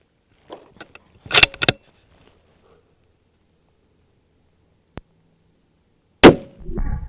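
A rifle bullet strikes a steel target at a shooting range, giving a few sharp metallic clangs with silent gaps between them and one loud final ring.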